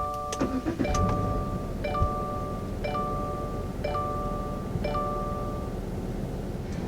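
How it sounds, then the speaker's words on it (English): A 2019 Subaru Crosstrek Limited is started by push button: a brief starter crank and engine catch give way to a steady idle, while a dashboard chime repeats several times at regular intervals. "To start the Limited trim, all you have to do is press this button"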